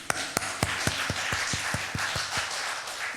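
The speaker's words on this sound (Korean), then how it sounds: "박수!" Clapping in a church during a Sunday afternoon service, a slow, evenly spaced run of about a dozen sharp claps over a diffuse murmur of the congregation.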